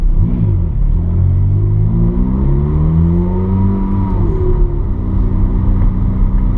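Ferrari F430 pulling out of the pit lane at Eastern Creek, its engine rumbling close and steady, with revs rising in repeated sweeping climbs through the gears and no talk.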